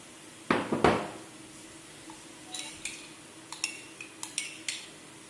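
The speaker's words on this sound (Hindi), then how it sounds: "अब इसमें ये जो मसाला मैंने कूट लिया है, अदरक और लहसुन, उसको मिला देंगे" Crushed ginger and garlic masala is stirred into oal (elephant foot yam) with a metal utensil, giving two loud scraping knocks followed by a run of light, close clinks and taps against the vessel.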